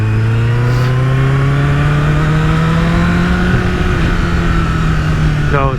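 Honda CBR1000RR Fireblade SC59 liter-class superbike engine under way while riding, a loud, steady drone whose pitch climbs slowly throughout, with wind rush and no talk.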